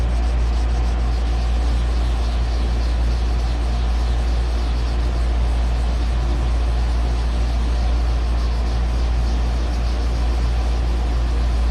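Wet sanding of day-old fresh clear coat on a car panel, a steady continuous scrubbing rasp over a loud low hum, unbroken for the whole stretch and close by.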